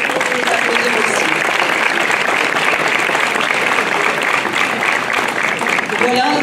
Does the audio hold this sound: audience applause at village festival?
yes